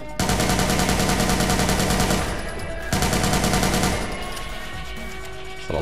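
Loud, rapid automatic machine gun fire from the video game Watch Dogs 2, in sustained bursts, a brief pause near the middle before another long burst, with synthetic game-like sound.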